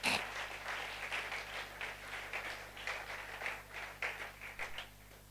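A church congregation applauding to acclaim the Lord during a hymn, steady rhythmic clapping by many hands over a soft low background, moderately distant and fairly quiet.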